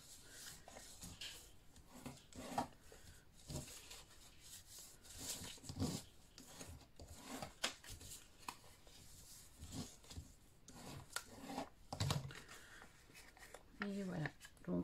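Paper is scored along fold lines with a tool while an explosion box is made, giving soft, close scraping and rubbing strokes in short repeated passes, with occasional taps, under quiet room tone.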